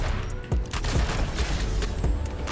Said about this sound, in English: I unloaded the whole clip on that mode